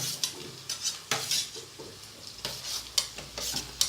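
Onions and potatoes fry in oil in a bowl for a bachelor-style biryani made without gas, heard as irregular stirring scrapes and metallic clinks over a light sizzle, close and soft, with no talking.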